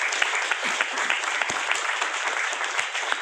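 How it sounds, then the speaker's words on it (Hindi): Seated audience at a motivational talk applauding for themselves, a continuous dense patter of many hands with occasional louder nearby claps, steady and unbroken. "मैं चाहूँगा आप लोग तो सबसे पहले अपने लिए जबरदस्त तालियां बजाओ"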